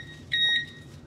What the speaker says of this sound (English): What in the teddy bear is beeping?